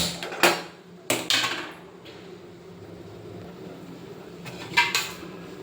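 A metal bowl set down on a kitchen stove burner, a few sharp clanks and knocks of metal on metal, close and clear against a steady background hum, with no talking.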